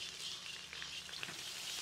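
Cumin seeds, dried red chillies and curry leaves sizzling in hot oil for a dosa potato filling, a steady close crackle with small pops scattered throughout, no voices.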